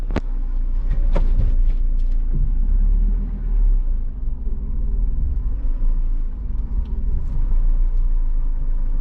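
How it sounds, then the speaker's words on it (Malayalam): A car creeping slowly forward in traffic, heard from inside as a loud, steady low engine rumble with a few faint clicks near the start and no talking. "ഞാനിത് കുറച്ചും കൂടെ വാഹനം മെല്ലെ മുന്നോട്ട് എടുക്കുകയാണ്."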